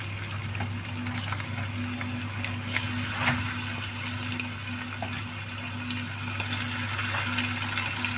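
Fish pieces coated in salt, chili and turmeric fry in hot oil for fish pickle, giving a steady, close, hissing sizzle that stays even throughout with faint kitchen clinks.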